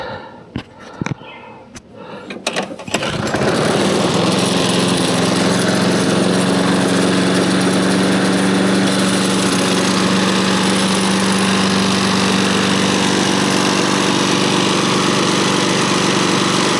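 Lawn mower engine starting up after a few clunks and pulls, then running steadily and loudly at close range with a constant drone, no talk over it.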